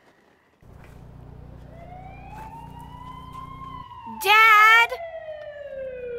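A police car siren wails with a rising, sweeping tone that grows steadily louder as it approaches over road noise, with a brief shout partway through.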